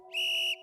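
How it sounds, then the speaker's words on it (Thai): A PE teacher's whistle gives one short, shrill blast lasting about half a second, loud and clear against near silence, as a sound effect in a school story. "นั่นคือเสียงนกหวีด"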